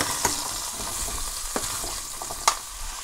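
Sweet potato pieces are stirred into a hot pan with cumin-flavoured oil, a continuous sizzle broken by three sharp scraping knocks of the spoon against the pan.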